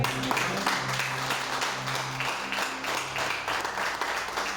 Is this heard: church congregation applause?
yes